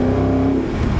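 A Spyker C8 Spyder's Audi-derived engine revs loudly and close, a deep, steady bellow with a rising tone that holds for the whole second.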